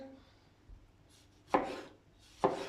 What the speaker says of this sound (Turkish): Şöyle domatesimi yuvarlak şekilde doğruyorum.